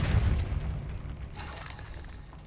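A blast from the Incendio fire spell in Hogwarts Legacy opens with a loud, low boom, then fades into a rumbling burst that crackles and hisses as it dies away.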